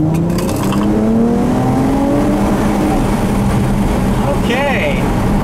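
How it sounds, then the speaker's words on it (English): A 2012 Dodge Challenger V6 accelerating hard along a back road, engine note climbing steadily through the rev range with loud road and wind noise inside the cabin. "if you get this motor to wake up, it'll really go pretty well for a V6"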